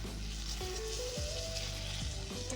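Prawn thokku sizzles steadily in separated oil on the stove, a soft continuous frying hiss with a few faint clinks and scrapes.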